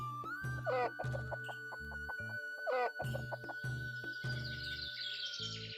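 Chickens cluck and squawk in quick, repeated bursts with sharp rising calls, close and lively, over a steady tonal background with a held musical note; no talk is heard.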